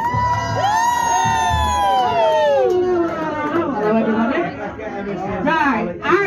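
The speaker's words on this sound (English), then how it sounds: "Start whooping, cheering, clapping" A festival crowd whoops and cheers loudly, with high rising shouts and yells from many voices, children among them, overlapping in a lively swell that lasts several seconds, with some chatter mixed in.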